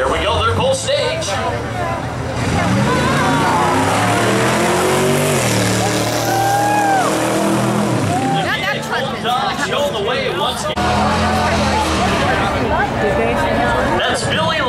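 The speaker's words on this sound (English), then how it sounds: "Robert Atencio in the near lane in the 71 Chevrolet Camaro" Drag race cars, a 1971 Chevrolet Camaro in the near lane against a 1970 Chevelle, roar loudly at the strip with engine revving rising and falling, under continuous announcer talk and crowd noise.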